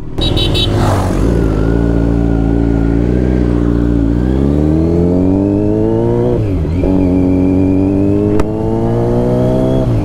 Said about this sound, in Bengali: এখানে আস্তে আস্তে নিয়ে যেতে হবে আমাদের বাইকটাকে।